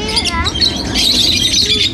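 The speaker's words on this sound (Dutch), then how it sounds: "Veel vogels, hè?" Many birds chirp at a zoo, a dense chorus of high twittering calls, close and loud, mixed with people talking.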